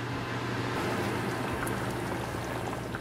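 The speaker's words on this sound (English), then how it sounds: "we're going to let it simmer on low heat for 5 minutes" Shahi chicken curry simmering on low gas under a lid, a steady close bubbling and popping that runs unbroken throughout, with no voices.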